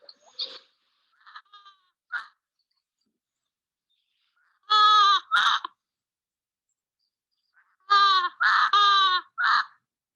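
Newell's shearwater (a'o) calls in a recording: a few soft scattered notes, then loud, harsh, braying cries in two bursts, each of several rapid repeated notes, clear against silence.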